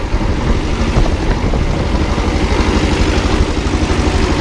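A small 17 horsepower Kubota tractor engine runs steadily nearby with its PTO engaged, a loud, even low rumble with a rapid rhythmic pulse and clatter that holds without change throughout.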